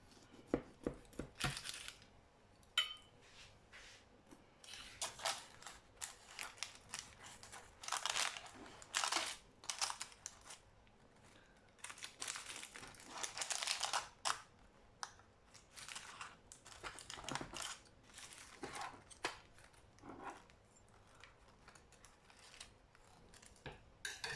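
A knife cuts a piece of warm lemon cake. Irregular soft crunching, scraping and crinkling strokes come close and intermittently over a quiet background, with no speech.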